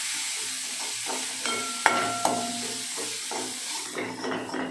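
Tomato, curry leaves, turmeric and masala fry in a pan with a steady close sizzle, while a spoon scrapes and stirs and a few sharp clinks ring against the metal.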